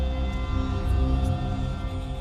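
A Sample Logic Morphestra 2 instrument patch plays a dense, sustained tonal texture with many layered harmonics, steady and fairly loud throughout, with no talking.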